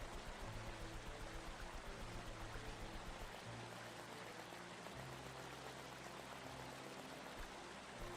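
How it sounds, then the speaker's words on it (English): Flowing water in an RPG Maker video game, a continuous stream-like rush with a pouring, trickling texture, fairly quiet and steady with no voices. "Nice water sound effect."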